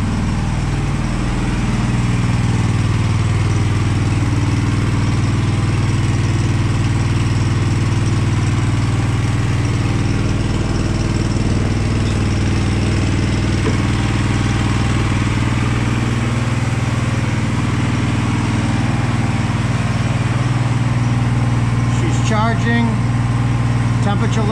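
A Walker 31HP lawn mower engine, freshly fixed after a head gasket repair, idles steadily and loudly up close with a constant mid-pitched drone for the whole stretch.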